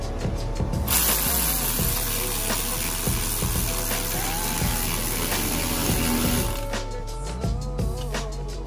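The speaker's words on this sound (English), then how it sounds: "Tighten it all the way down so it clamps down." A Seadoo Spark Triton exhaust clamp tightened with a ratchet, rapid clicking pawl sounds and mechanical ratcheting repeated steadily up close for several seconds, with no talking.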